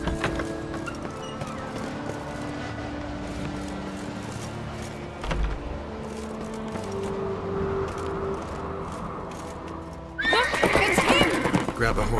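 In The Witcher 3, a horse whinnies loudly, then hooves clip-clop in a steady rhythm, with a sharp burst of noise near the end.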